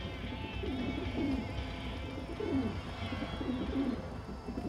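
Pigeons cooing in Dreamfall Chapters, several soft throaty coos repeating at close range over a low ambient bed.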